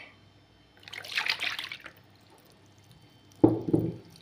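Milk poured into a mixing bowl while making pizza dough, heard as a short close splashing pour followed after a pause by a second quicker splash, with no voices.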